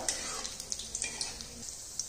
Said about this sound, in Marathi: मध्यम गॅसवरती लालसर होईपर्यंत आपण याला आता तळणार आहोत